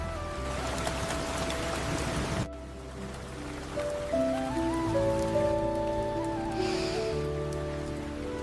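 Rain from the year's first monsoon shower hisses steadily for about two and a half seconds, then drops away as sustained tonal music takes over.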